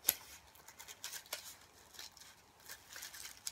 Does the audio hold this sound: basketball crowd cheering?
no